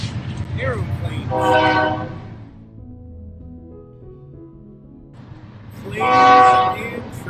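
A train passes at night beside the Yellowstone River in Montana, its horn blaring in two loud, sustained blasts separated by a quieter rumbling stretch of rolling cars.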